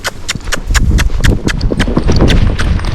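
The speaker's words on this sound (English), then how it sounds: "ask her to canter on her right lead, and we'll see what happens" Hooves of a Tennessee Walking Horse clip-clopping on flat ground in a quick, uneven rhythm as the mare is asked for a right-lead canter, close and fairly loud with a faint voice underneath.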